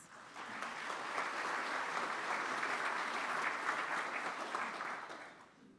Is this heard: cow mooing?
no